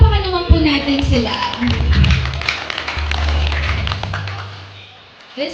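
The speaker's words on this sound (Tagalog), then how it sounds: "palakpakan naman po natin sila" Guests at a wedding clap through a gratitude dance, a steady patter of applause under music and a voice over the sound system, fading toward the end.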